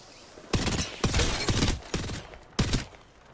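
Loud gunfire from an Apex Legends ranked match: four separate heavy bursts of rapid shots, each landing hard and then trailing off, with short gaps between them and no talking.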